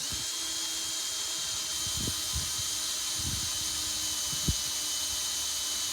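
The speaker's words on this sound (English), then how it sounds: "Let the drill bit do its work," A high-pitched drill whines continuously as it bores through aluminum on trailer wiring, with occasional low thumps and clicks underneath; no voices.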